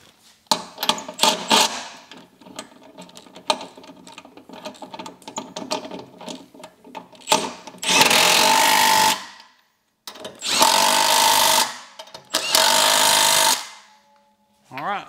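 Lug nuts on a Jeep Wrangler's spare tire being tightened: scattered ratcheting clicks and clanks, then three loud, sustained mechanical bursts, close by.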